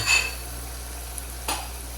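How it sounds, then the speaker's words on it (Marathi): Masala being stirred into mutton curry in a pot, with two brief scraping clinks of a spoon against metal over a low, steady hum. "टाकलाय थोडासा मटन मसाला, मिक्स करून टाकून घेऊ आता आपण."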